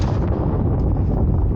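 A single loud, close rifle shot from a Remington 760 firing whitetail soft point ammunition, the blast filling the clip with a heavy booming echo that slowly tails off.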